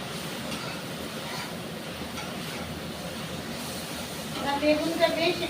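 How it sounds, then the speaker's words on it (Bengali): Eggplant fries in oil in a pan with a steady, fairly loud broadband hiss and crackle that swells slightly near the end. "একটু লাল লাল করেই ভাজি, বেগুনটা বেশ সুন্দর করে ভাজা হয়ে যাবে।"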